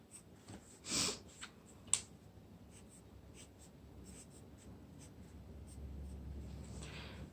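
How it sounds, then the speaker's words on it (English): Pen or pencil writing a sum into a school exercise book, soft scratchy strokes in short bursts near and quiet, with a couple of louder taps and no talking. "I'm going to write my sum underneath."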